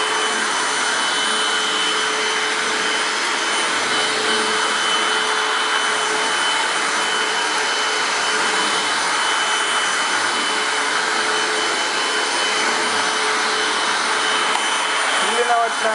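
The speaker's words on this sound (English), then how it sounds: "There's just a spot in my house where it's never been vacuumed ever." A Hoover Windtunnel Anniversary Edition self-propelled upright vacuum cleaner runs on carpet at home, a loud, steady whine and airflow roar that holds unbroken throughout.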